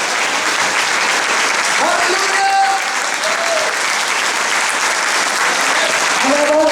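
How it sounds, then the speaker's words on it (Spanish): A church congregation applauds the Lord with loud, steady, unbroken clapping, and a few voices and whoops rise above it. "Denle un fuerte aplauso al Señor"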